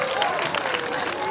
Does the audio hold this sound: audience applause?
yes